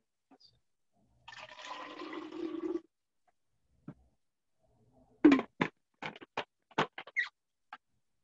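Water pours into a water bottle in a short gurgling burst that rises in pitch as it fills, followed by several sharp clicks and taps from handling the bottle in a quiet room.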